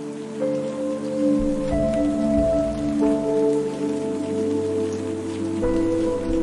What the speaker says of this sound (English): Listen to the rain, still falling gently from the clouds.